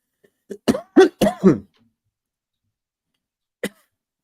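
A burst of several quick, close coughs in a row, then silence, followed by one more short cough.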